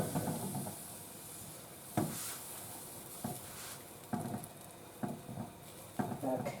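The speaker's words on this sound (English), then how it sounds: "Stir constantly, making sure to scrape the bottom and the sides of the skillet" A spoon scrapes the bottom and sides of a skillet of sausage gravy made with milk, giving soft repeated scraping strokes over a faint sizzle, at an irregular rhythm with quiet gaps.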